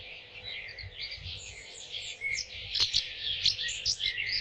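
A crow calls as a story sound effect, a series of bright chirping caws and squawks layered over a soft ambient bed, fairly close and without any speech.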